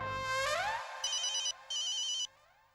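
An electronic phone ringtone plays alone, a bright melodic burst with a rising sweep followed by two short repeated tonal rings, loud and close, then fading to quiet.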